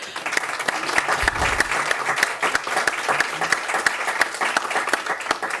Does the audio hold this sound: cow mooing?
no